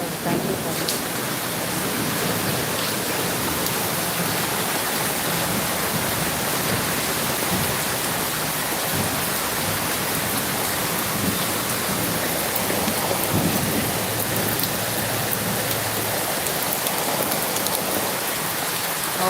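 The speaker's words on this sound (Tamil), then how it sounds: "மழை பெய்யும் இடி பயங்கரமாக இடிக்குது" Steady, heavy rain hisses without a break, with a low rumble of thunder underneath.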